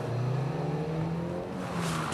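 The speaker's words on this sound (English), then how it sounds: "get the car going in the other direction" A car engine whirs and strains as the vehicle reverses and then accelerates off the other way down a road, a steady close mechanical drone that swells and shifts pitch with no talking.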